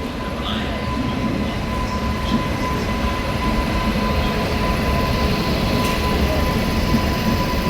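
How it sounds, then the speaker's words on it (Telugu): A train arriving at a station rumbles steadily nearby, a continuous loud rolling drone with a faint high whine, no talking over it. "ట్రైన్ వచ్చేస్తుంది"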